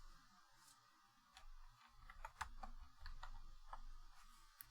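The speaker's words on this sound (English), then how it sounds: "I'm typing in my notes" Fingers type on a computer keyboard in a quiet room, irregular bursts of soft close clicks and key taps with short pauses.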